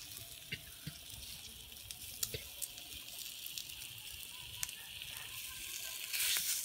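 Food grilling under a hot-air welding gun gives off a steady, faint sizzling hiss, dotted with small scattered pops and crackles, with a slightly louder burst of hiss at the very end.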